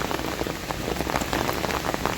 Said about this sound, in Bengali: এখনই নেই কোথাও বৃষ্টি, টিপ টিপ করে পড়ছে আছে।